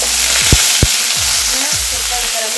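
Curry leaves sizzle as they hit hot oil with cumin and green chillies, a loud, steady frying hiss with a few sharp crackles and spits, no voices.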